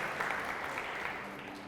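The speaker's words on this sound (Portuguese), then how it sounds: "Vamos aplaudir essa galera aí" A church congregation gives a short burst of steady, dense applause, many hands clapping together at moderate loudness before fading slightly.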